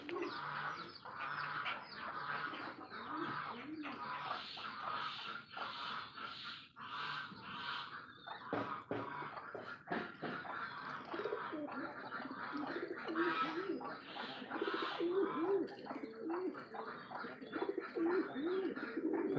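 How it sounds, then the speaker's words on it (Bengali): Several pigeons coo steadily in soft, overlapping rolling calls, with occasional chirps and a brief flutter of wings, close by and continuous. "এগুলো হচ্ছে আমার কবুতর"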